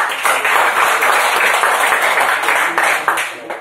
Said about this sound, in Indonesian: Boleh tepuk tangan buat Herianto.